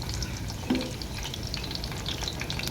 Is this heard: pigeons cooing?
no